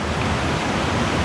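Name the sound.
small river rapids flowing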